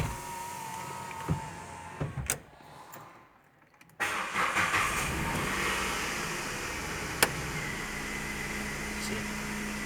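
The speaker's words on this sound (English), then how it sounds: "Now I'm gonna start the car for you guys." Renault Kwid car engine cranking over after a short quiet stretch, then settling into a steady, moderately loud idle heard from close by inside the car.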